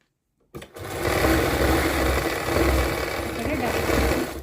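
A sewing machine stitches a saree fall, starting abruptly after a brief silence and then running as a steady, close, loud mechanical whir. No voices are heard.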